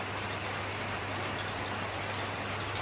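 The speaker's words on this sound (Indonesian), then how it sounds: "memperlihatkan hujan di sore hari." Heavy rain falls on a Friday afternoon as a steady, dense broadband hiss with no breaks, loud and continuous throughout, with a low hum beneath it.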